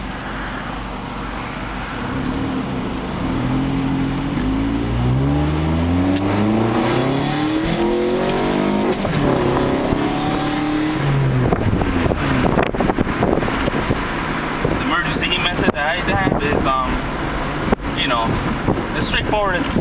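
Nissan B15 Sentra engine fitted with new headers revving up and down in rising and falling sweeps, loud and close, with wind buffeting and crackling pops toward the end.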